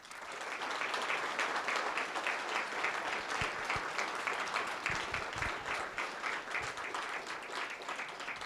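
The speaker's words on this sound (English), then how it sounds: "So please join me in a round of applause." An audience at a university humanities award ceremony applauds, a dense, steady wash of many hands clapping at moderate distance that holds evenly throughout.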